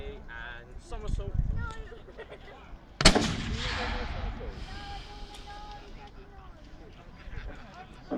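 A small cannon fires once at a US Civil War re-enactment: one sharp, loud blast with a booming tail that fades over several seconds, preceded by distant voices and crowd noise.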